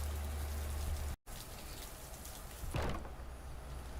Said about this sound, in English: the wagon departs while I try to find my way within the blur of rain and wind.